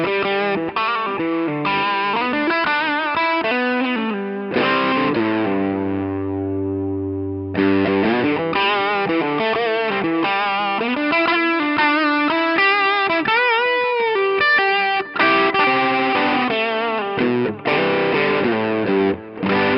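Electric guitar through a VERTEX UltraPhonix overdrive pedal set for a darker, heavily saturated tone with little top end, playing chords and single-note phrases, one sustained held chord in the middle, steady and unaccompanied.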